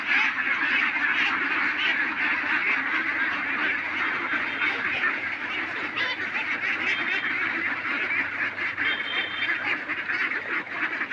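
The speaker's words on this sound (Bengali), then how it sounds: "আমার ঘরের থেকে হাঁস বাড়াইতেছে, এই যে" A flock of ducks quacks continuously as they stream out of their duck house in the morning toward a wetland, a dense, loud, overlapping chorus of calls close by that never lets up.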